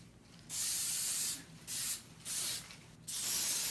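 Four bursts of aerosol hairspray hissing close by as it is sprayed up into a ponytail, each lasting about half a second to a second, separated by brief pauses.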